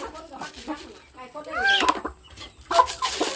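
Farm chickens clucking in short bursts close by, broken up with excited voices and chatter between the calls.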